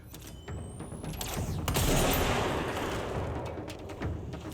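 Gunfire in the video game Control: a sharp opening shot, then a swelling roar of bursts and impacts that fades out, followed by a few scattered shots near the end.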